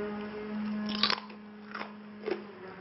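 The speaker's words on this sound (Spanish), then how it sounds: "No sé si escucháis el crujido." Someone bites into crisp homemade potato chips fresh from the microwave. Three close, sharp crunches sound over a quiet background hum, with no talking.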